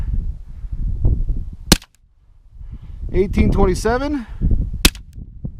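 Two sharp, loud shots from a suppressed FN57 pistol loaded with Fiocchi 5.7x28mm SS197 rounds, spaced about three seconds apart, with someone talking quietly between them.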